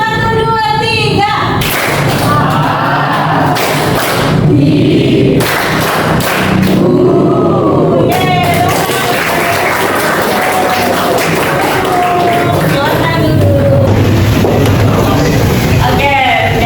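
A classroom of students claps in rhythm to a teacher's counted chant, repeated bursts of group clapping, loud and near, alternating with the teacher calling out over the room.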